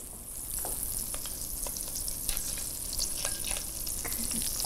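Butter melting in a hot pan gives off a steady, close sizzle with scattered crackles and pops, and no talking over it.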